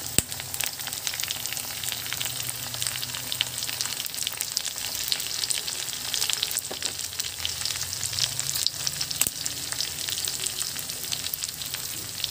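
Tomato pieces frying with pork for binagoongan, giving a steady close sizzle and crackle that runs without a break, with faint stirring noises now and then and no talking.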